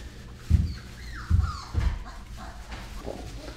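Poodle-retriever mix puppies, three and a half weeks old, let out a few high, wavering whimpers and whines. A couple of soft thumps sit under them at close range.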